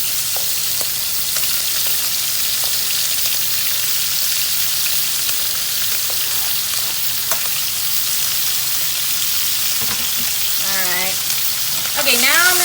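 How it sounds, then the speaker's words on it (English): Chopped onions sizzling steadily in a hot pan for chile verde, a loud continuous frying hiss throughout with occasional scraping, ending in a brief burst of stirring. "So I'm just gonna throw these onions in."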